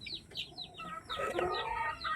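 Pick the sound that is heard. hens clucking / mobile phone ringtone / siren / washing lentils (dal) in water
hens clucking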